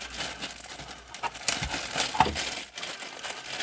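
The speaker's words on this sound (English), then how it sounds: "Sorry about the plastic noise" Plastic packaging from a laser dry-fire training target kit crinkles and crackles in close, irregular bursts, with no talking.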